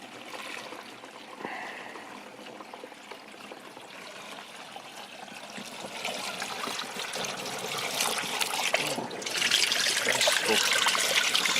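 A steady trickle of urine runs throughout, quiet at first and growing louder and fuller toward the end, with no voices.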